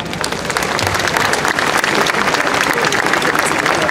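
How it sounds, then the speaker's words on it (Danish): A large crowd applauds steadily at the opening of the Copenhagen Metro Cityringen M3 line, with dense, loud clapping filling the space without pause for several seconds. "Det må man gerne klappe af."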